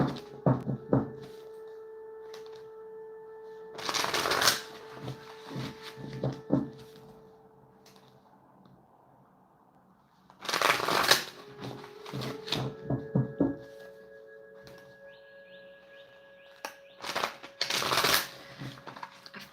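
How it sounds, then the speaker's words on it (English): Tarot cards being shuffled in several loud riffling bursts, each a dense rattle of card edges, with quieter handling and faint tonal hum between them. "Let me just give this another shuffle."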